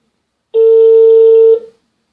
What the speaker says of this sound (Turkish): Çalıyor.